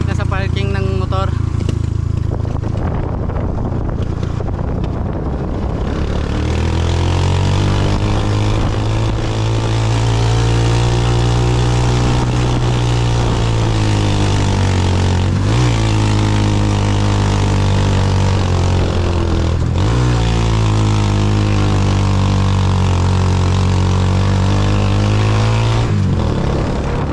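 Motorcycle engine running in a parking area near Hulugan Falls in Laguna, a steady loud drone with slowly shifting pitch that holds for the whole stretch, alone without talk.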